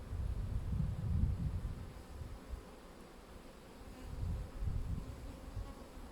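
Bees buzz close around a child's hand and fingers outdoors, a low droning hum that swells and fades in uneven waves, with light wind noise behind.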